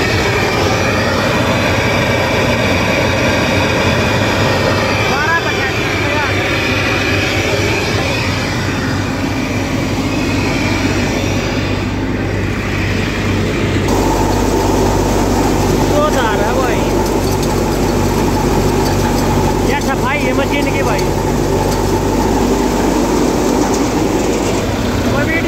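A Swaraj 855 tractor drives a threshing machine that is sifting mustard. A loud, steady mechanical roar and rumble with a dense drone fills the whole stretch, and someone talks intermittently over it.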